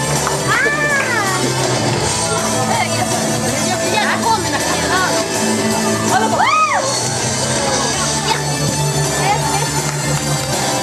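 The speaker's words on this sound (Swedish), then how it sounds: "En applåd för våra fantastiska arrangörer" Audience at a cosplay show in a bookshop cheering, whooping and shouting loudly and steadily throughout, a dense crowd roar with children's voices and some talk mixed in, though clapping is not clearly distinct.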